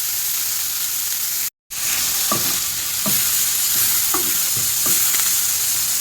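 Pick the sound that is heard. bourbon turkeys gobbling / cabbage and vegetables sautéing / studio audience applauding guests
cabbage and vegetables sautéing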